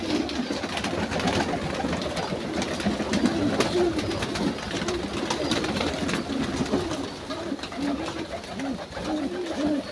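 Flock of pet pigeons in a dim loft cooing steadily: soft, rolling coos repeat throughout, close and overlapping, over a busy wash of background noise.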